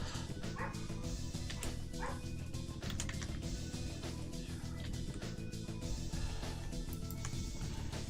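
Outside, a dog keeps barking, yipping and whimpering in repeated bursts, somewhat distant and muffled but clear against a steady indoor background hum.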